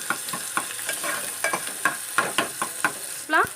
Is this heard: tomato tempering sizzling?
yes